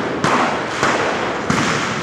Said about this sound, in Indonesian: sepertinya semakin banyak suara petasan